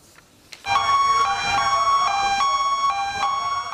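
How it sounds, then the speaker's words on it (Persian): A loud, steady siren wails continuously in a street in Samangan, northern Afghanistan, sounded as part of an anti-coronavirus campaign, starting abruptly after a few faint knocks and holding a sustained layered tone. "آژیر مبارزه علیه کرونا در سمنگان، شمال افغانستان"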